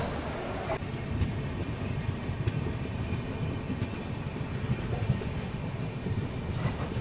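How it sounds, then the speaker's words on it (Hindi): A passenger train pulls out of Cooch Behar station, a steady close rumble and rhythmic wheel clatter heard from on board, continuous and fairly loud throughout. "अभी अपनी ट्रेन निकल रही है कूच बिहार से"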